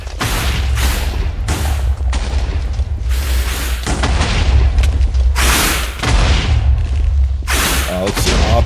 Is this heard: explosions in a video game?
yes